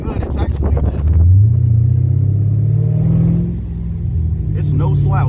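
The V8 of a Mercedes CL550 hums and rumbles through hilly corners, a loud, steady engine drone that rises in pitch then settles, heard from inside the car with someone talking excitedly over it.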